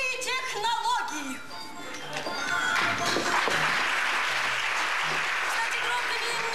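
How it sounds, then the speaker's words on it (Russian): Audience clapping in a theatre swells from a mix of voices into steady, dense applause that fills the room, with speech heard early before the clapping takes over. "Кстати, громко не хлопать, а то не расслышу."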